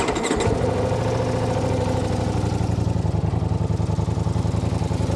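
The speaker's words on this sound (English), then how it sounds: "We'll start her up." A 2023 Ducati Diavel V4 motorcycle fires up with a brief cranking burst, then settles into a loud, steady, throbbing idle with its exhaust butterfly valve stuck open, close to the microphone throughout.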